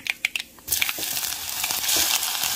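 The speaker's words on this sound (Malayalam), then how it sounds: "ഇനി ഇതൊന്ന് വഴറ്റിയെടുക്കാം നമുക്ക്." Fenugreek, mustard seeds, ginger, garlic and onion sautéing in a pan: a few sharp clinks of a spoon, then a loud, steady sizzle with scraping stirs.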